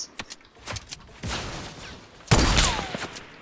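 Gunfire in a video game comes as scattered sharp shots, with a louder burst of rapid fire near the end, fairly close and without talk.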